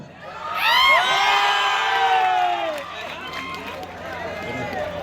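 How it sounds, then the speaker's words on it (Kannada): An audience at a government first grade college event in Mundaragi breaks into loud cheering led by a high, falling whoop. The crowd noise then eases into a lower hum of clapping and chatter. "ಕಾವೇರಿ ಮೇಡಮ್ ಅವರಿಗೆ ಜೋರಾದ ಚಪ್ಪಾಳೆ."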